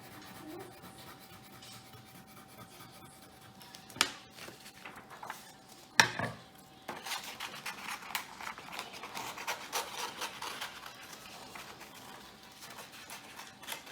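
Scissors cut through a paper handprint tulip craft painted in layered colours, a steady close run of soft snipping and paper rustle with a few sharper clicks.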